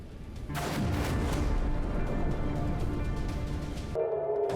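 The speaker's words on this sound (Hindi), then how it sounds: "कुछ ही सेकंड में कई बम अलग अलग इलाकों में जाकर फटते हैं" Cluster bomb submunitions from an opened missile warhead explode in a dense, sustained rumble of overlapping blasts that starts abruptly and holds loudly for several seconds before cutting off.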